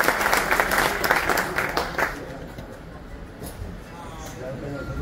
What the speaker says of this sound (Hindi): ताली तो कम से कम बजा ही सकते हैं भाई,